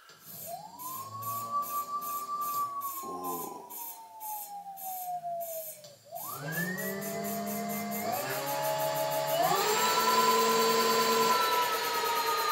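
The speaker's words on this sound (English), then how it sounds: "let's check to see if the throttle works" An unbalanced electric motor wheel driven through a Kelly motor controller whines as it spins up, with rising and falling tones and a steady beating wobble, then climbs in stages to a louder full-throttle pitch.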